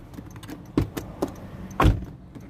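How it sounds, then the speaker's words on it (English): A 2023 Perodua Alza 1.5L Advance car door shuts with a couple of dull thuds and light clicks, close by and fairly light rather than solid. "the door closing sound still isn't that solid"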